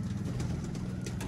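Pigeons cooing, a low, steady murmuring coo from the birds kept close by, with a faint engine hum in the background.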